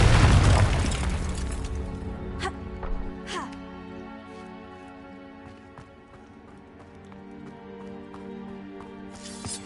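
A Confringo spell in a Hogwarts video game erupts in a loud, booming explosion at the start that rumbles and fades over several seconds. Scattered lighter clatters and thuds follow under a low steady game ambience.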